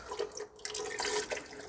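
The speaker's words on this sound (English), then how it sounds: "I'm going to pour in about 2 cups of chicken broth" Chicken broth pours from a very large container into a pot of sautéed onion and garlic, a steady splashing liquid stream that runs close and moderately loud for under two seconds.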